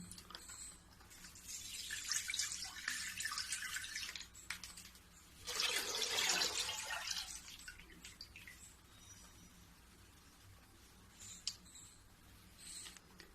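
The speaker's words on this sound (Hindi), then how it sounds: "ये 4 लीटर दूध ली हूँ। ये चारों लीटर दूध मैं इसी में डाल दूंगी।" Four litres of milk poured into a pot greased with ghee for kalakand, heard as two soft, rushing splashing streams back to back, followed by quiet with a small clink near the end.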